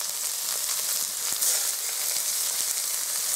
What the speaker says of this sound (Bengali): আর এখানে যে আমি পেঁয়াজ কুচনো নিয়েছি, পেঁয়াজ কুচনোটা এবার দিয়ে দিলাম তেলের মধ্যে